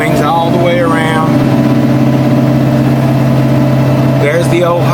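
A steady, loud diesel rumble from an excavator working at a house as it swings around: a constant droning hum with no breaks, and faint voices briefly audible over it near the start and end.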